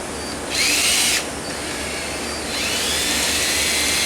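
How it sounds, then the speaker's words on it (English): A hand wrench works loose the lightly torqued clutch spring bolts on an opened 2003/2004 Suzuki GSX-R 1000 motorcycle clutch, heard as a few brief squeaky metallic turns and scrapes over a steady background hiss, close and fairly loud. "I'm breaking loose the clutch spring bolts"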